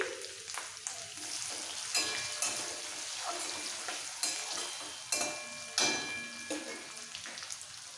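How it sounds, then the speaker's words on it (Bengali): Onion with chopped tomato frying in a pan for ghugni, a steady soft sizzle with intermittent scrapes and clinks of stirring, fairly close and moderate in level. "পেঁয়াজটা ভেজে নেব"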